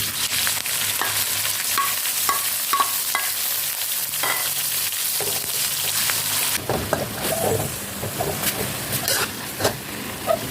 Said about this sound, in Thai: ผัดพริกแห้งและกระเทียมให้หอมนะคะ ไม่ต้องไหม้นะคะแล้วเราก็จะใส่หมูลงไปจ้า